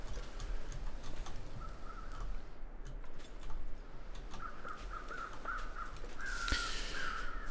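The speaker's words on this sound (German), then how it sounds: "nichts anderes Lebendiges, außer die Krähen da oben" Crows caw in the survival video game The Long Dark, a string of repeated caws that comes in the second half over a steady wind-like background hiss, moderately distant.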